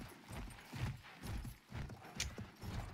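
A horse gallops in the video game Battlefield 1, its hooves making a steady, rhythmic clip-clop at moderate distance, fairly soft and continuous with no speech over it.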